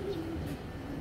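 A blue checker pigeon hen coos softly and close by, a low repeated murmur lasting about a second over a steady ambient background, with no talking.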